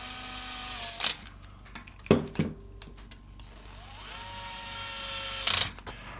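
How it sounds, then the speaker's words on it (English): Small screws being driven to secure the circuit board back into the chest of a Dance N' Rescue Spidey toy, giving short close ratcheting, whirring bursts with quiet clicks and handling noise between them. "let's go ahead and screw in the circuit board in the chest"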